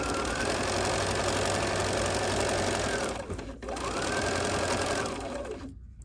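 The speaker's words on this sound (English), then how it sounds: "do a few stitches forward, hold our quick reverse button, which is right conveniently right above the needle like this, and go backwards" A Bernina sewing machine runs at a fast steady whir while stitching forward, breaks off for a moment, then runs again in reverse before stopping, loud and close with no talking.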